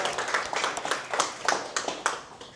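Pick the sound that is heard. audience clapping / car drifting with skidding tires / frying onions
audience clapping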